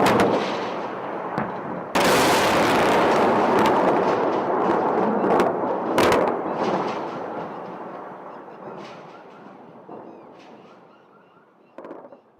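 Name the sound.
recorded US airstrikes on Iraq, Shock and Awe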